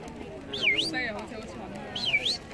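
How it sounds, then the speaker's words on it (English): Conures squawk at a busy Thai night market, two rising and falling calls a second or so apart, close by over a low murmur of crowd noise. "The best thing I saw at this night market wasn't even for sale. It's these adorable conures."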